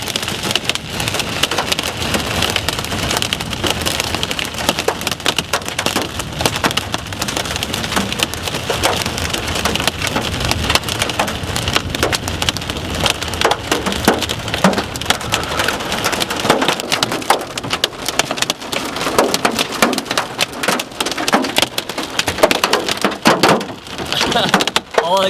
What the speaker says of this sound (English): sit here and grimace as I get pelted with nickel-sized hail